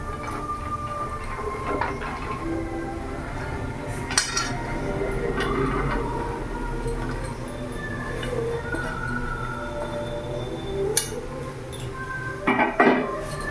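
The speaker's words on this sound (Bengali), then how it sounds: "এবার এরই মধ্যে এখন আমি কেটে রাখা সব সবজিগুলো দিয়ে দেবো।" Chopped vegetables tumble into a pot of chicken soup, with metallic clinks and clatters of pot and utensils standing out at a few moments over a steady busy kitchen background.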